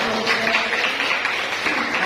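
Steady applause from a classroom audience after a group presentation, continuous clapping heard close throughout.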